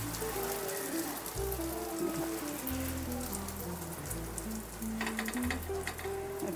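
Beaten egg and bread omelette mixture sizzles in hot frying oil, a steady close hiss with crackling spatter throughout, under a faint low background hum.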